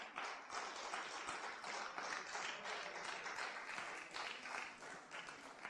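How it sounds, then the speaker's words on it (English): A church congregation claps during a Sunday morning service, dense sustained applause heard at a distance, soft and even throughout. "Let's give the Lord the best clap offering for this morning."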